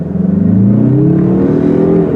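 A 2021 Mazda CX-30 Turbo accelerates hard with the turbo spooling up, its engine note climbing steadily in pitch, loud and close from inside the car, with no talk.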